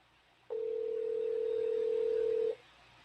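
An unanswered phone call gives a single steady ringback tone that lasts about two seconds. It stands alone over a faint background hiss.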